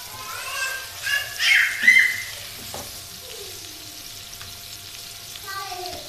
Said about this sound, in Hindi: अब चिकन को मैं थोड़ा सा फ्राई कर लूँगी।